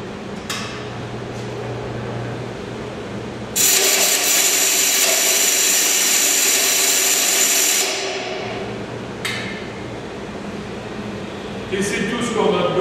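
A bench grinder wheel is dressed, its abrasive grains scraped away, giving a loud harsh grinding burst for about four seconds, then a quieter steady motor hum with short scraping touches.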